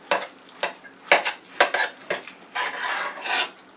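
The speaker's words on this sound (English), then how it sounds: "now just gonna cut this in half" Knife slicing through a ham being cut in half, a series of rasping, scraping strokes with a few clinks against the board, irregular and close, growing into longer sawing passes near the end.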